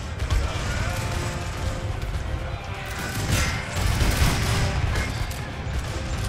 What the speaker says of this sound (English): Man, the gunshots used to be so tame.